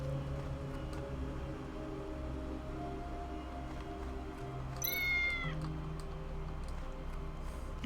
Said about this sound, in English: There's this distracted cat right here.